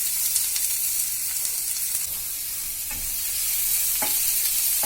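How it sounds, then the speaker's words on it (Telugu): Sliced onion and chopped green chillies frying in a pan while being stirred, a constant close sizzle with occasional scraping taps of the spoon. "ఈ ఉల్లిపాయలు కొంచెం సాఫ్ట్ అయ్యే వరకు ఫ్రై చేసుకోవాలి."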